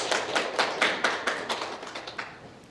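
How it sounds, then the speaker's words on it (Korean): A Korean church congregation at a Sunday service in Indianapolis claps in farewell: a modest, loosely spaced run of sharp hand claps, fairly close, fading slightly toward the end with no talking. "박수로 우리가 환송을 해드려야 될 것 같습니다"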